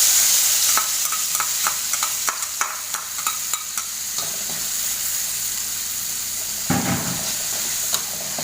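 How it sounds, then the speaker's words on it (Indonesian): Spice paste sautéing in hot oil, a loud continuous sizzle with rhythmic scraping strokes of a spatula through the pan and a brief louder burst near the end. "minyaknya udah agak panas, kita masukkan bumbunya ya. Kita tumis ya sebentar ya."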